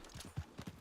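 Horse hooves clip-clop softly in Red Dead Online, a few quiet, uneven footfalls heard alone at a modest distance.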